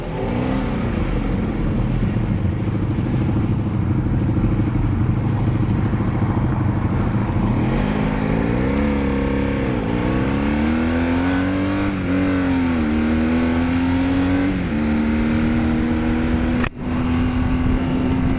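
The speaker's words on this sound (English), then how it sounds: "we're now out with two R1's, a Daytona, and obviously myself and my VF 400" A group ride of two Yamaha R1s, a Triumph Daytona and a Honda VF400 heard from one of the bikes, a constant loud engine drone with rising and falling revs through gear changes and wind rush, no talking.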